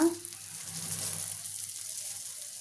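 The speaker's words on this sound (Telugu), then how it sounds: "దోశ పెనం పెట్టి కొంచెం నూనె వేసాను హీట్ అయ్యాక దోశ వేసుకున్నా" Dosa batter frying on a hot, lightly oiled pan gives a steady, soft sizzle and crackle that holds evenly throughout, close but fairly quiet, with no talking.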